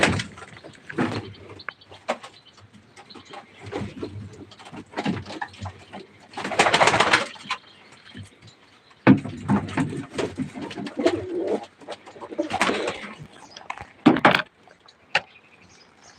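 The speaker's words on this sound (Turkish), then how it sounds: "Kuşları bir çıkartayım bir hava alsınlar." Pigeons let out of their loft coo and call close by in repeated bursts, mixed with fluttering and a few knocks like a door or cage, with no clear speech.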